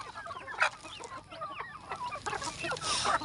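Chickens cluck and squawk outdoors in short, scattered calls, moderately near, with faint background noise and no talking.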